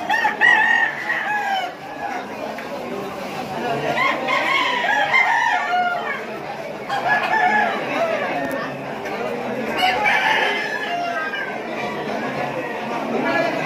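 Many fighting roosters crow over constant clucking and chatter from a crowded flock at a cockfighting gathering, loud and close, with voices mixed into the din.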